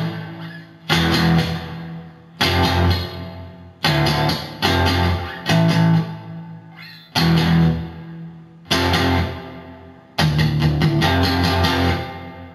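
A distorted second guitar plays the intro to a song, repeated bursts of sustained chords that break off into short gaps about every second and a half, loud and alone.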